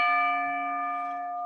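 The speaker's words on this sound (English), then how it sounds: "that's the bell" A single bell strike rings out clearly and then decays slowly, with a sustained harmonic tone marking the end of a podcast show.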